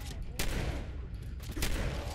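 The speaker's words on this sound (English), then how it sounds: "This is a shotgun." Shotgun blasts in Fallout 4, two loud broadband bursts about a second apart over a dense, rumbling game soundscape of ongoing gunfire and action, with a voice faintly present.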